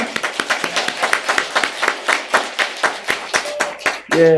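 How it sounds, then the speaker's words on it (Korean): A church congregation claps together in celebration at a Christmas thanksgiving service with baptisms. The claps are loud, close and steady in a rhythmic beat, ending in a brief burst of other sound. "축하의 박수, 축복의 박수를 하겠습니다"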